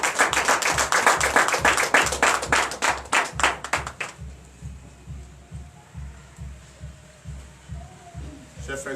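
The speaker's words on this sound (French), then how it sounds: "Encore plus fort. Donnez l'acclamation à notre Seigneur Jésus." Rhythmic unison clapping from a church congregation at a Sunday service in Comè, Benin, strong for about four seconds and then dying away, leaving a quieter room with a low background hum and some speech.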